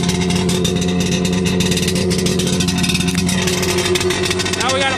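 A jet ski engine idles steadily while being winterized, a constant loud mechanical drone filling the whole stretch, with a person talking over it.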